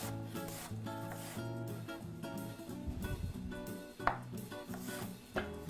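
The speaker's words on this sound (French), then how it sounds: "Ensuite, on va avoir besoin d'oignons. Émincer, juste à le recouper en 2. On y va assez finement." A knife finely slices onions on a board in a series of quick, rhythmic cutting strokes, with a few sharper chops near the end, heard under steady background music.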